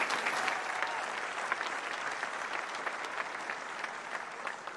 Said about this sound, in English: One more round of applause for those three students